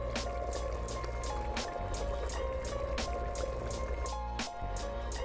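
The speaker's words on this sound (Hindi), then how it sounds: "अभी मज़ीद इसको मैं 10 मिनट ऐसे ही पानी का छींटा दे दे के भूनूंगी।" Water is sprinkled onto chicken frying in a pan, giving a continuous sizzle with repeated sharp crackling bursts and a brief dip near the end.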